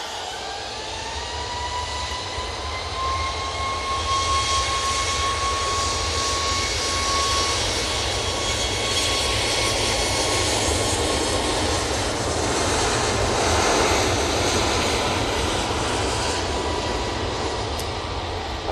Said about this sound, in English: That's 737 MAX 8 now on the roll